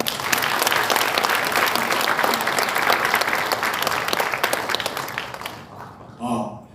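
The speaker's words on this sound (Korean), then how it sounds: "박수로 드립니다." Audience applause at a Korean lecture event, heard as loud, dense clapping from a large crowd lasting several seconds before fading, followed by a short burst of a voice.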